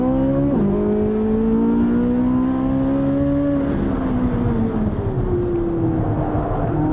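A Corvette Z06 engine drones steadily while driving, its pitch dipping once then climbing and falling slowly as revs change, continuous and fairly loud with no talk.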